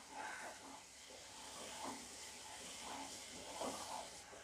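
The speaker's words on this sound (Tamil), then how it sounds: "தண்ணி கொதிக்குது" Soft steady hiss and gentle bubbling of sugar syrup simmering in a pan, faint and continuous with small popping swells.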